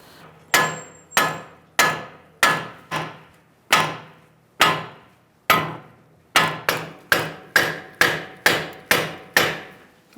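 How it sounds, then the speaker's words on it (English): A sledgehammer pounds a rusted steering knuckle on a 2000-2007 Ford Taurus during front strut replacement, about eighteen sharp metallic blows in an uneven rhythm with ringing decay, close and loud. "Use my sledgehammer."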